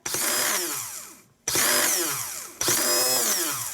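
ATV starter motor on a test bench whirring in three loud bursts with brief gaps between them, a high grinding electric spin that winds down at the end of each run.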